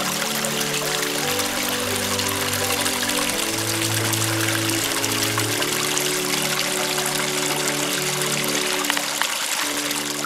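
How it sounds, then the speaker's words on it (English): A small creek on a rural coffee and fruit farm with a simple water system, its water pouring and trickling in a steady, dense rush that stays even and close from start to finish, with no talk. "Small creek here on the border. It even has a simple water system here."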